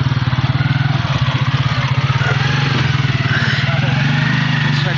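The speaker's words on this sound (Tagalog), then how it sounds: "ayaw pa rin mamatay ng motor ni boss" A motorcycle engine idles close by with a fast, even putter that holds steady throughout, a low throbbing pulse running alone without talk.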